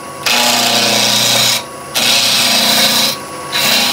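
A wood lathe spinning at about 1800 to 2000 rpm while a small 6mm bowl gouge knocks the corners off a blank, making loud, steady scraping cuts in three long passes split by short pauses.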